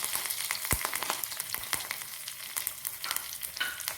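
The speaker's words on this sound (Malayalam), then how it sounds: "പൊട്ടി വരുന്ന കടുകിലേക്ക് നമുക്ക് കുറച്ച് കരിയാപ്പില ഇട്ട് കൊടുക്കാം. ഒരു 2 വറ്റൽമുളക് ഇട്ട് കൊടുക്കാം." Mustard seeds, curry leaves and two dried red chillies fry in hot oil, giving a close, continuous sizzle broken by sharp popping crackles of bursting seeds, with no voices.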